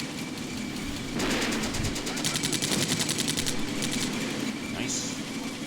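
Rapid bursts of machine-gun fire rattle at armored vehicles in the WWII tactical game Combat Mission: Beyond Overlord, near and steady for several seconds over a low rumbling engine, with a distant voice underneath.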